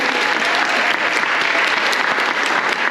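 Loud, close audience applause at an event, a thick continuous patter of many hands clapping at an even level from start to finish.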